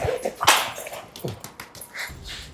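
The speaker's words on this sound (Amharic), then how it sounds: "ውሻ።" A dog in a dramatic scene gives short yelping barks and whimpers, one sharp loud burst standing out among several quieter calls across a couple of seconds.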